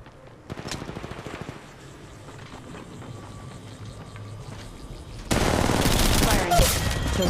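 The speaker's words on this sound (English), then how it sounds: "Getting shot at." Gunfire in the mobile battle royale game Apex Legends Mobile: rapid automatic shots crackle through a muffled stretch, then a louder, dense burst of firing erupts near the end.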